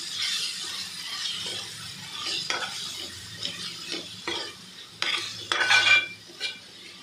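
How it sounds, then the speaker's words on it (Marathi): Soya chunks for biryani stir-fried in a pan, with a spoon scraping and clinking against the metal over a continuous soft sizzle, close and without talk. "इकडे आपले सर्व सोया चंक टाकून दिलेत। आता हे आपण छानपैकी परतवून घेऊया याच्यामध्ये।"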